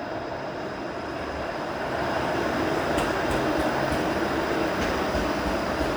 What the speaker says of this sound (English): There's the 504A streetcar.